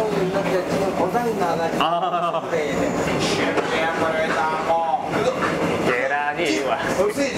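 A train at Bukcheon station in Hadong, with rumbling carriages and squealing, screeching metal tones rising and falling, while people talk and laugh over it nearby.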